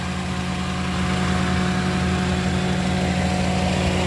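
A 2012 Toyota Avanza G with a 1.3 manual engine idles steadily, a close, even low hum with a faint mechanical whine throughout and no talking.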